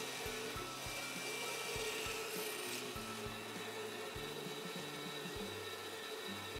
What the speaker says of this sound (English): I'm using my bandsaw jig for cutting dowels.